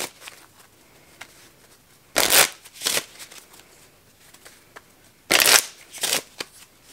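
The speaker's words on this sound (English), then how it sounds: "So we might as well get started by shuffling." A deck of cards shuffled up close in two distinct bursts of riffling, each a quick pair of loud ruffles, with quiet handling ticks and soft taps between.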